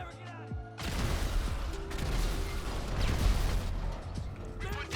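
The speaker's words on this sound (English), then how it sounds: "The explosion did nothing." A loud explosion in the video game GTA V bursts in after a quiet lead-in and carries into a dense crackling, rumbling roar that fades slightly before a final swell.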